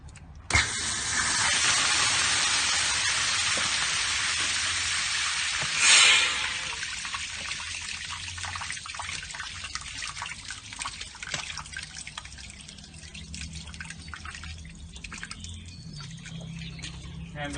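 Water shoots out of a drain pipe from a house water system in a steady hissing gush, loud at first, with a brief surge, then a quieter continuous trickle and dribble.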